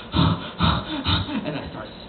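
A voice imitates heavy, labored breathing: three strong rasping breaths in a steady rhythm, then a rougher, fading exhale, close to the microphone.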